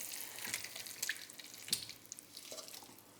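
An ingredient poured quickly into a pot of chicken korma at the end of cooking gives a faint, close trickle with scattered small drips and light splashes, no voices.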